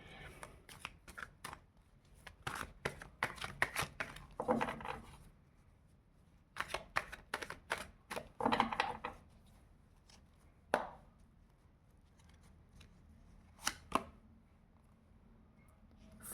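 Tarot cards shuffled and drawn by hand in bursts of crisp riffling and flicking, close and fairly quiet, with pauses between and someone speaking between the bursts.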